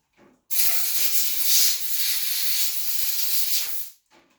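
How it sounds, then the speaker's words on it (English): Compressed air sprays in a single steady hissing blast of about three and a half seconds onto a part of a Novarossi .28 nitro RC engine, close and loud, with nothing else heard. "Give it a quick spritz with the compressed air really quickly."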